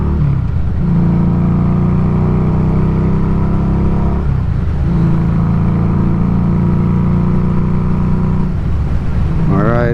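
A Harley-Davidson Street 500 motorcycle cruises in sixth gear at about 3,100 RPM and 48 mph, a loud steady engine drone under heavy wind rush, with brief dips where the tone shifts.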